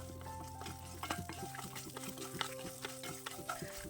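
Onions being stirred in a pan for a carrot chutney, with a soft steady sizzle under irregular scraping strokes of a spoon, fairly quiet and close, with no talk.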